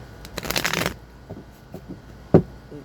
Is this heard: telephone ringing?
no